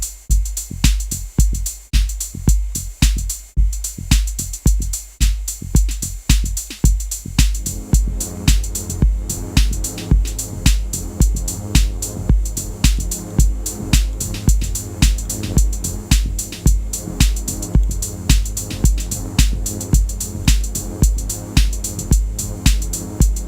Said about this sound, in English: Now with the kick.